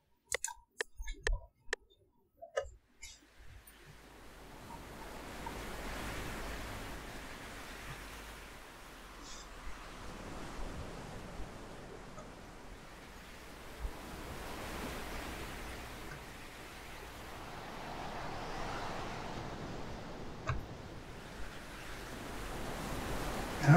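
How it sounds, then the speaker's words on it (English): A steady, hissing wash of synthetic surf swells and recedes, preceded by a few sharp clicks at the start; no voices. "It basically just makes wave sounds."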